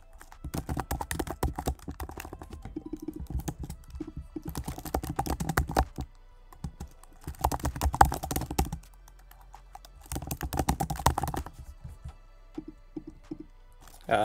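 Typing on a computer keyboard while coding a Ruby on Rails web app: several bursts of quick, close key clicks broken by short pauses.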